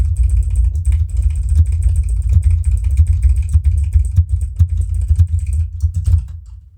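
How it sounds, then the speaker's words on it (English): Relentless computer keyboard typing hammers along nonstop, dense fast key strikes close and loud over a low background hum, with no talking, easing off at the very end. "it's another to hear just like relentless key bashing"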